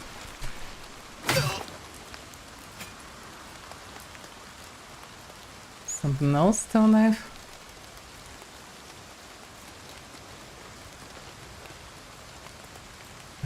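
Steady rain patters on the ground in Oblivion Remastered, a constant hiss throughout with a brief muttered voice and a short burst of other sounds midway.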